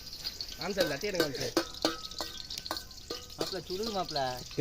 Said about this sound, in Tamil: வெங்காயத்தை நன்கு வதக்கவும்